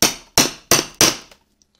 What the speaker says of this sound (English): and just hammer in.